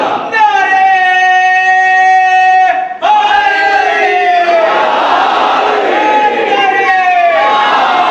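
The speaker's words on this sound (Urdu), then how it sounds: "نعرے" A large crowd at a religious majlis gathering chants slogans in loud unison, sustained voiced calls rising and repeating with a brief break midway, close and forceful.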